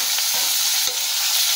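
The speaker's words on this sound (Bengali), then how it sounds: "পেঁয়াজ কুচিগুলোকে একটু ভাজা ভাজা করে নেব আমরা।" Chopped onions frying in oil seasoned with a dried red chili and a bay leaf, making a bright, steady sizzle with a couple of brief stirring scrapes, close and with no talk.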